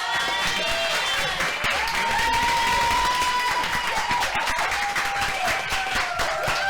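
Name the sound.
audience applause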